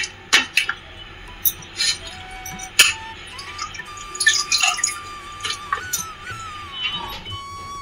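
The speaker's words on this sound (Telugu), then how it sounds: "ఇప్పుడు మటన్ శుభ్రంగా కడుక్కుందాం. 4 or 5 times కడగాలి." Mutton pieces are washed in water in a home kitchen, with irregular splashes, drips and clinks of a vessel coming in close, scattered bursts.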